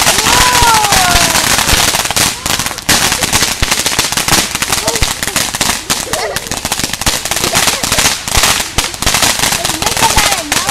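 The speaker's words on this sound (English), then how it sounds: "Because each firework was coming from 3 different chambers." A Big Bazooka fountain firework fires from three chambers, a loud, dense stream of crackles and sharp pops that runs without a break, with people talking faintly underneath.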